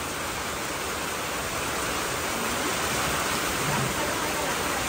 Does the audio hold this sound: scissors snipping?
no